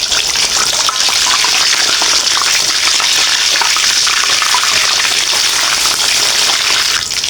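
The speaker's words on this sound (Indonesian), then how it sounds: "Apabila minyak udah panas, kita siap goreng" Chicken fries loudly in hot oil, a dense, steady crackling sizzle that holds without pause throughout.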